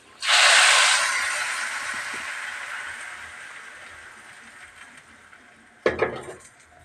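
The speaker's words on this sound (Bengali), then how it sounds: "এখন আমি ফোড়ন দিয়ে দিচ্ছি এটিকে" Spices tempering in hot oil for a saag and dal dish: a loud burst of sizzling hiss that slowly fades, then a brief clatter of a pan and a fresh short sizzle near the end.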